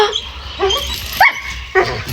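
A dog barks and yips several times in short separate bursts, fairly close and loud, with a whimpering edge between barks.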